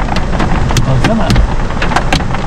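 Hail pelting a car during a storm in Kastamonu, Turkey, a dense, steady clatter of sharp ticks and rattles on the roof and windows, heard from inside the vehicle with rain-like hiss throughout.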